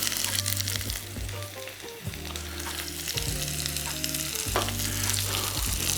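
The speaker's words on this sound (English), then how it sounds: "our bacon fat is nice and hot. We get our papas down." Potatoes and onions fry in hot bacon fat, giving a continuous close sizzle with intermittent scraping and stirring and steady tonal hums underneath, and no voices.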